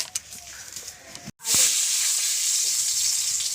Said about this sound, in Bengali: আলু কটা ভেজে